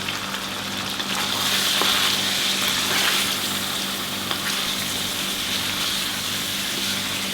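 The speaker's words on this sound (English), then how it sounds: "I'm going to stir that quickly." Chicken-on-the-bone curry with spices being stirred in a hot pan, giving a steady loud sizzle and frying hiss that runs unbroken throughout, with faint scraping and no voices.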